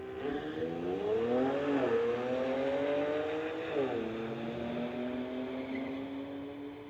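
Honda and Infiniti street cars drag racing at a track, with engines revving upward through two gear shifts marked by pitch drops, then a steady fading drone at moderate distance.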